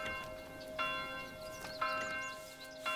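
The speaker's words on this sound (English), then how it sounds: "Is that the right church bell sound?" A church bell in the video game Manor Lords tolls three times at steady intervals, each strike ringing out over a continuous low hum of background ambience.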